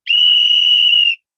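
A single steady whistle blast, loud and close, held for about a second with a clean start and stop.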